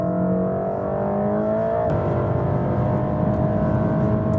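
A Mercedes-AMG GT Black Series with a 4-liter biturbo V8 produces a steady, loud engine drone with rising tonal whine and a brief shift-like break, heard alone without talk.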